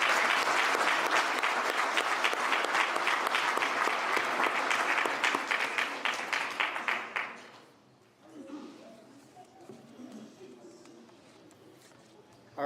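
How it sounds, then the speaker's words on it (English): An audience at a high school athletic Hall of Fame induction ceremony applauds a football team, loud dense clapping for about seven seconds that fades out, followed by quieter room murmur and talk. "One more round of applause for this great team."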